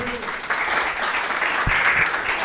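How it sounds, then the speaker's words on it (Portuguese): A church congregation applauds during a sermon, a short burst of many hands clapping at moderate level, with a faint thump or two beneath the steady patter. "dê um aplauso a Jesus"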